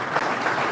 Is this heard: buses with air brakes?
no